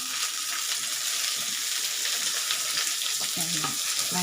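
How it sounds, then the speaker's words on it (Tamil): Cabbage stirred into fried onions for masala cabbage sizzles loudly and steadily in hot oil, with a bright hiss throughout and scraping stirs now and then, and no voice. "நம்ம கோஸ் போட்டுக்கலாம் கொஞ்சம் பரட்டி விடலாங்க"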